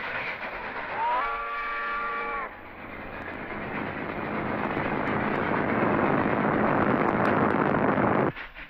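A passenger train sounds a harmonic horn blast, then runs past with a loud, building roar and rattle of wheels on track that cuts off abruptly, with no one talking.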